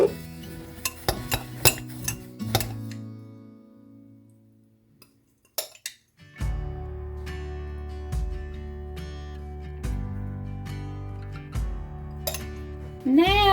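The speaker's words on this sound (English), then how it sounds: "I melted probably about half a stick of butter, and I'm just going to take some panko breadcrumbs, and I'm going to make a little buttery, crumbly mixture" A utensil scrapes and clinks against a dish while panko breadcrumbs are stirred into melted butter, in sporadic taps and then steadier scraping strokes up close.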